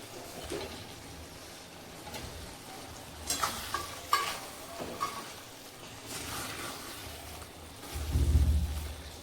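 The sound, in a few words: fried paneer added and stirred into pulao in pan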